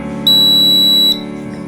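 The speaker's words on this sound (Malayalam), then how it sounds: "വെള്ളം നിറഞ്ഞു വരുമ്പോൾ അലാം അടിക്കും" A homemade water tank overflow alarm lets out a single piercing high-pitched electronic beep lasting under a second over a steady low hum.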